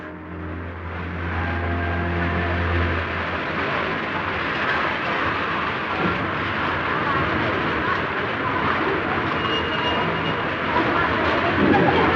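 A 1954 steam express running non-stop from King's Cross to Edinburgh gives a steady, loud rumble of rolling wheels and carriages, with a continuous rushing roar that swells slightly toward the end.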